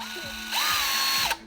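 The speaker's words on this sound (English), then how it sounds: "the first thing we're gonna do is we're gonna go ahead and just drill the hole here" A power drill whirs briefly against a Toyota/Lexus W55 or W58 manual transmission seal, its pitch rising and falling through a short burst with mechanical ratcheting, close and fairly loud with no talking.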